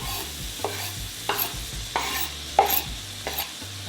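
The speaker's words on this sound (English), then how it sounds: "it's at this stage of sauteing our onions that I would add the garlic" Onions and garlic sautéing in a pan for German currywurst, a soft steady sizzle broken by repeated scraping stir strokes about every half second, close and moderately quiet.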